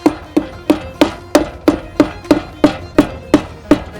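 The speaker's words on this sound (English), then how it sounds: "we're just gonna tap that on with a rubber mallet" A rubber mallet taps a bearing buddy onto a boat trailer wheel hub, producing a rapid, even series of about a dozen dull, close knocks with a faint metallic ring.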